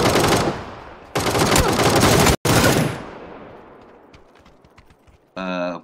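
Gunfire rattles through a video game shootout: two dense bursts back to back, then a single cut-off shot, all loud and close. After that comes a faint tail of scattered sounds and a short electronic tone at the end.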